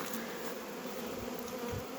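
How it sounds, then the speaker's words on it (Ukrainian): Honeybees buzz in a steady, dense hum at an apiary, with individual insects droning past now and then against the faint swarm. "Багато бджілок несуть пилок."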